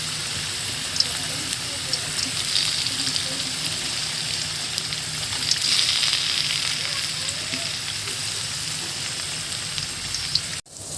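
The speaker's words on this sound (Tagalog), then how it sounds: "magluto muna tayo ng ating tofu, tokwa. Iprito muna natin siya." Tofu fries in a hot pan with a steady close hiss and crackle that holds throughout, then stops abruptly at the end.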